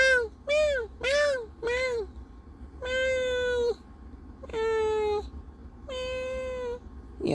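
A cat named Killua meows seven times close by: four quick rising-falling mews in a row, then three longer, drawn-out meows with short pauses between them.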